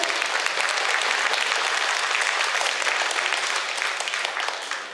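Loud, sustained applause from a large crowd at a brass band's 130th anniversary concert, steady throughout and easing off slightly near the end.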